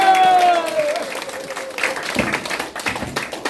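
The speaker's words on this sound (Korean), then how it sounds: "박수 치세요." Audience applause at a Korean political party induction ceremony and press conference, a dense wash of clapping that swells after a brief tone at the start and continues steadily with some voices mixed in.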